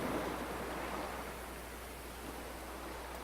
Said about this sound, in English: Let me just do some ASMR with this water real quick. You can hear it. Sloshing of a waterfall that isn't there.